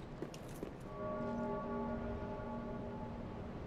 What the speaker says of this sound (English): is that bell tolling because I'm here?